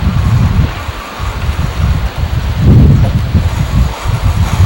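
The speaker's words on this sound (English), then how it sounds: "Boy, is it windy today." Strong outdoor wind gusting and buffeting the microphone in a loud, continuous low roar that swells and eases, with no talking.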